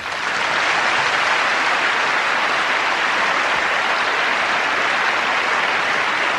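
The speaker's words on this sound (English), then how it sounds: "a big round of applause." Large audience applauding steadily at the Eurovision Song Contest voting, a dense continuous roar of clapping that holds at full volume for the whole stretch with no talk over it.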